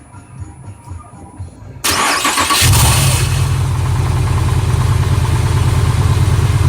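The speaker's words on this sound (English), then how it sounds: "The weird sound that you will hear when I will start the engine is the starter not disengaging like it's supposed to do." A Pontiac Grand Prix GXP engine is cranked with a starter that fails to disengage: near-silence, then a loud burst as it fires, settling into a steady, heavy idle with a constant grinding drone layered on top.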